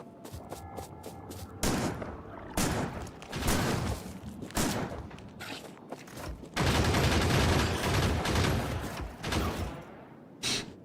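Bursts of automatic gunfire in Factorio aimed at a biter, loud rapid volleys separated by short pauses, with a long sustained stretch of shooting near the end.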